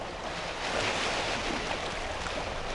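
Ocean waves from the video game Ever 17 roll as a dense, constant surf roar, loud and even from start to finish with no voices.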